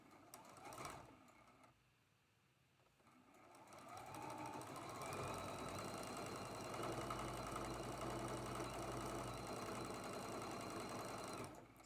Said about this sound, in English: sewing the longest seam here and here